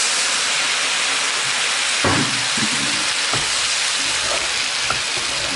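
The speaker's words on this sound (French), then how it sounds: "Je prends mon vin blanc et je verse d'un coup." White wine tipped all at once into a hot pan during the making of beef with onions, setting off a loud, steady sizzle and hiss with a few sharp clicks and scrapes of utensils, close by and with no voices.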